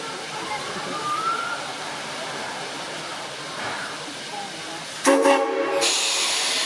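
A distant steam logging train on the Yosemite Sugar Pine Railroad rumbles along as it departs, then at about five seconds a loud whistle blasts abruptly and holds, much louder than the rest.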